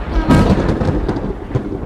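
Thunder rumbles through steady rain in a stormy outdoor scene, a deep continuous roll with a sharper crack near the start and another swell toward the end, loud and close with no voices.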